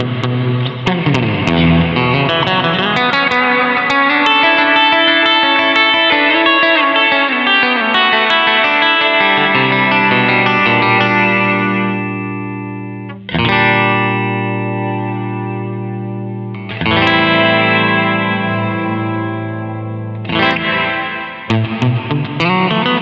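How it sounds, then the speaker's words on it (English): Sustained distorted guitar chords through a Fender Marine Layer reverb pedal's plate-style hall setting ring out with a bright, dense reverb wash, the tails lingering and decaying between strums before new chords hit; no voices. "hall variation number two, which is something along the lines of a plate reverb"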